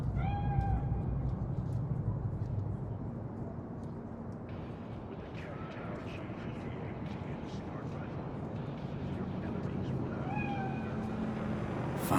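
A cat meows in Cyberpunk 2077, with a few short, high mewing calls near the start and again near the end. They sit over a continuous ambient rumble from the city, and a voice talks through parts of it.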